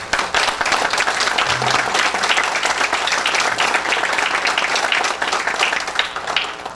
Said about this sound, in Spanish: al ingeniero Herrera, una leyenda viva de la ingeniería, para quien pido un fuerte aplauso de reconocimiento